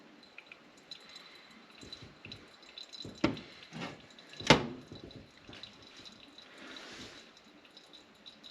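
Maple syrup dripping slowly through a filter into a jar, with quiet, sparse drips and a couple of sharper plinks standing out against near silence.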